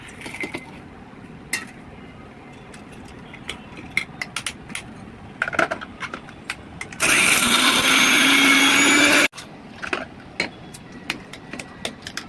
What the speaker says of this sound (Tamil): அரைச்சிட்டு நல்லா அரைச்சி தான் பண்ணுவேன் மிக்சியில்